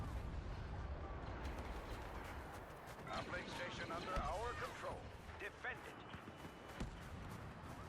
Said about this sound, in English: I'm going to turn on my ion cannon, it looks like, or like a supercharged cannon